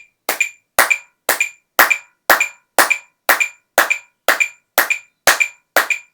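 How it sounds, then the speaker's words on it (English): Single pair of hands clapping along on the beat to a metronome during a drum practice routine, twelve sharp, evenly spaced claps at a steady tempo, close and loud with silence between each. "I'll try and clap along 1, 2, on the beat"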